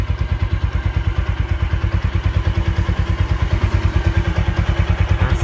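A Suzuki Axelo motorcycle engine idles close by, a loud, even, rapid thumping pulse that holds steady throughout.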